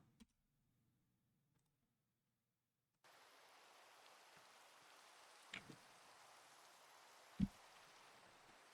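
Steady rain falls in a video game, a soft continuous hiss that starts abruptly after a quiet stretch, with a couple of louder taps and clicks standing out near the end.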